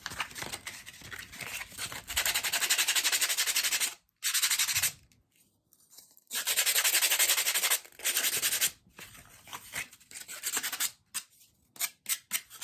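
Small pieces of wood for a handmade Fourth of July ornament being sanded by hand, with close, scratchy rubbing strokes in long runs broken by short pauses, no talk.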